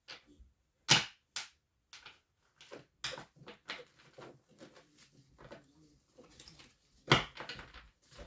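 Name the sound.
shuffling tarot cards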